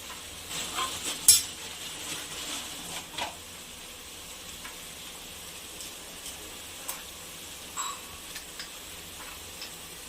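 Ingredients sauté in a pan for biryani, a faint, quiet sizzle dotted with light clicks and occasional scrapes of stirring.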